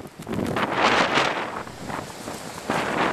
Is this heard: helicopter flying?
no